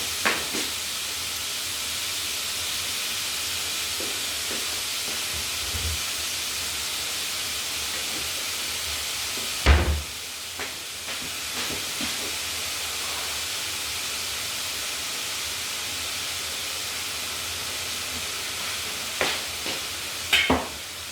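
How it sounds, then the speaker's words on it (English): Meat sears in a pan with a continuous loud sizzle, broken by occasional scraping stirs and clattering knocks of a utensil against the pan, one louder clunk midway and a few more near the end. "It's always better to sear the meat when you're cooking it"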